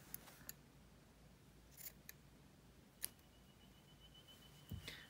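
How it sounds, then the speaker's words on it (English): Scissors snip through loops of embroidery thread in a few quiet, sharp clicks spaced irregularly over a faint background hiss, with one crisper cut near the middle. "just get your scissors and cut through your loops"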